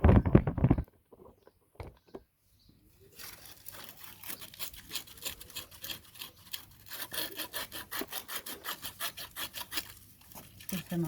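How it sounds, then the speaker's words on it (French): Sanding off an old gasket in a home mechanics job, a steady run of rapid back-and-forth scraping strokes close by, rising after an initial quiet stretch with a brief louder bump at the start. "Maman elle est en train de poncer"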